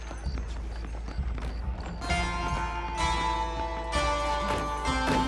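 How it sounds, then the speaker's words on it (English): Horses clip-clop along in Red Dead Redemption, a steady run of hoof beats with musical score swelling over them partway through. "The horses should be in an alleyway down here!"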